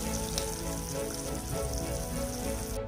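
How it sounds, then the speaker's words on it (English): Mutton sizzles and fries steadily in ghee with a curd and spice mixture, making a dense, continuous crackle close up with no talking. "the mutton has been cooking really well with the ghee and the rest of the spices"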